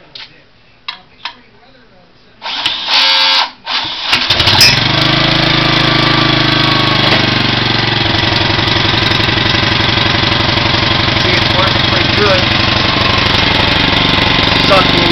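A gasoline engine fitted with a GEET HHO vapor generator cranks with a few sputters, then catches and settles into a loud, steady running rumble that continues close by.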